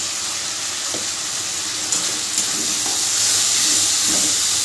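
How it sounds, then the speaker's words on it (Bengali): Ginger paste and ground cumin fry in a pan for a vegetarian paneer curry, producing a loud, even hiss of sizzling oil with a few light knocks of stirring and no talking. "আদা জিরেটাকে একটু কষে নিতে হবে।"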